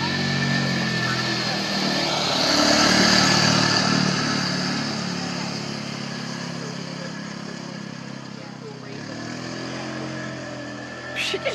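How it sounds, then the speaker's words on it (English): An engine of a quad bike drives through mud, a steady mid-pitched motor drone that swells briefly near the start and then holds at a constant level for the whole stretch. "She just drove through the mud all over my clean quad."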